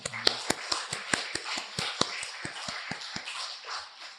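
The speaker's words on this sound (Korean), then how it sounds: "그렇게 하실 주님께 찬양의 박수를 드리겠습니다." A church congregation at Sunday worship claps in praise. The hand claps are sharp and evenly spaced in a steady unison rhythm, moderately close and a little faint, with a faint voice underneath.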